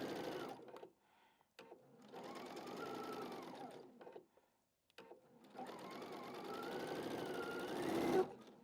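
A sewing machine runs a long basting stitch in two steady motorized bursts separated by a short pause, its whirring hum close and fairly loud.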